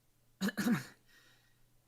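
A single short, throaty cough-like burst in two parts, close to the listener, followed by quiet.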